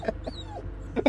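Hurt dog in the horror video game Blair Witch, whimpering in a few short, high, wavering yelps and whines close up, with a brief pause between cries.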